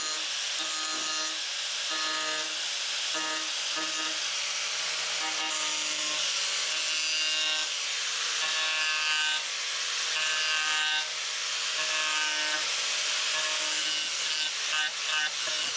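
An angle grinder fitted with a homemade disc made from an oil filter cuts into wood, giving a continuous high-pitched rasping whine that rises and falls in repeated strokes, close and steady.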